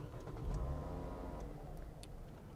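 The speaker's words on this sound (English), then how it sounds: "I'll start the car" A Lexus IS250 car engine starts up with a low, steady rumble that rises in the first second, then settles into a smooth idle, close by and alone with no talk.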